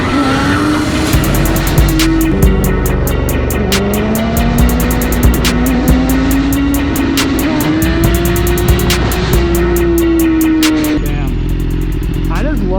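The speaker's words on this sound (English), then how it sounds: "I just love the sound this bike makes when it idles, man" Motorcycle engine during wheelie practice on a ride, a steady loud drone with rising and falling revs and sharp throttle surges, heard up close under rushing wind.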